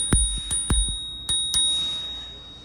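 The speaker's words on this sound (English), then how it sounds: "and you got an awesome little bell" A small handlebar bell on a 2023 ICON electric e-bike rings in five sharp, close dings, three quick ones then two more, each with a short metallic ring-out and no talk.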